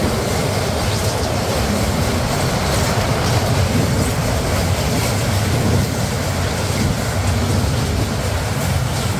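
Madhumati Express passenger train running on rails near Paksi station in Bangladesh, a loud continuous roar of wheels and carriage rumble with faint clatter, heard steadily throughout with no talk.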